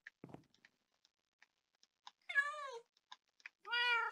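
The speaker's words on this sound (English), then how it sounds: "We see this cat" Cat meowing in the video game Minecraft, two clear drawn-out meows near the end, preceded by soft scattered clicks and taps in otherwise quiet surroundings.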